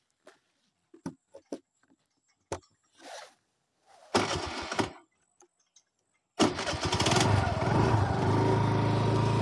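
A TVS Jupiter scooter with a starting fault is cranked with the choke on: scattered clicks and short failed starter bursts, then the engine catches and settles into a loud, steady close-up idle.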